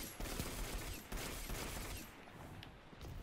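Gunfire in Destiny 2 gameplay, a dense rattling volley of shots with clattering impacts, steady and fairly quiet, fading slightly toward the end.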